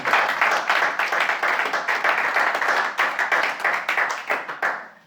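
A church congregation claps to acclaim the Lord, steady loud applause of many hands with rapid rhythmic beats, filling the room and tapering off at the end.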